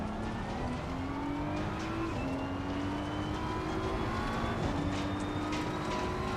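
A BMW M4 GT3 race car with a damaged front, racing on the Nürburgring Nordschleife in a video game, drones loudly and continuously as its engine climbs through the gears with brief dips at each shift.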